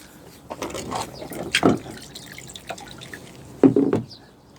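Drinking water for animals is poured out and changed, giving a few irregular splashes and drips, with louder spills near the middle and toward the end against quiet background.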